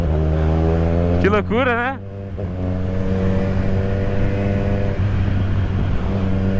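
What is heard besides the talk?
Kawasaki Z1000 motorcycle accelerating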